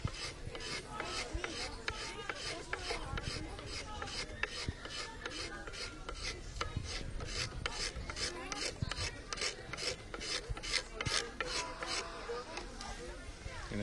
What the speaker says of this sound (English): It's a very quick, very effective method of smoothing out your wood.